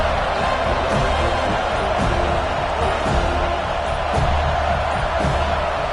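A stadium crowd at a football game roars steadily and loudly as the opposing offense lines up for the first snap of a drive, a dense, continuous wall of noise with no pauses.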